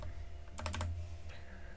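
Quick burst of computer keyboard typing, several rapid keystrokes clustered together then a lone later tap, close and clear over a low hum while coding in Visual Studio Code.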